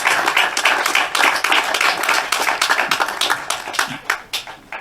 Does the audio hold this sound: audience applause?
yes